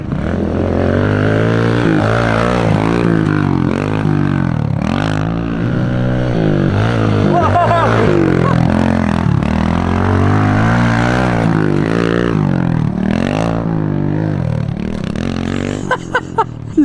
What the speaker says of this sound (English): Let's ride the mini bike.